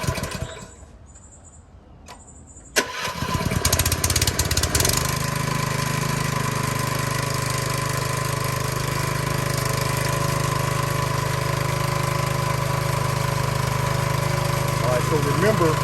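A soft wash system's small engine is pulled to a start after a few quiet clicks and handling sounds, then settles into a loud, steady, close-up running drone.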